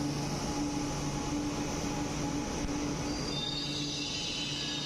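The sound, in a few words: Chennai Metro train arriving at station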